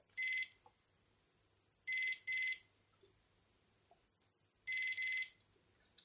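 Multimeter continuity beeps while testing a Korg Volca Sample circuit board: a short high-pitched tone, then a quick double beep, then another single beep after a pause, clear against near silence.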